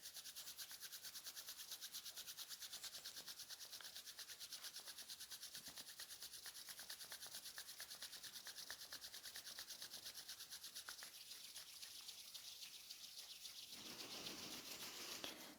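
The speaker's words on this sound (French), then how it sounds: "Je frotte plus vite." Hands rubbing quickly together in a quiet self-massage: a soft, continuous, fast swishing friction, faint and close, steady for about fifteen seconds with a slight shift near the end.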